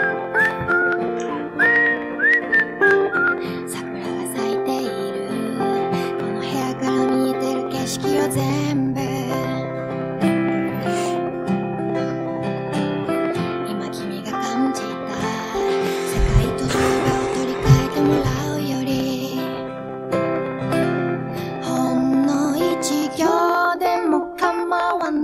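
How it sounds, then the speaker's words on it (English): A person whistles along to a song, the melodic whistle running steadily for the whole stretch over the music with no pauses. "Boy, you better whistle too."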